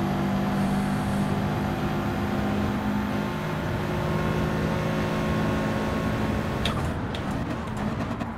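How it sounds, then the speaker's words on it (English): A race car engine in Gran Turismo 7 drones loudly and steadily, held at high revs throughout with a sustained tonal hum and a brief change near the end. "He's revving that all the way out."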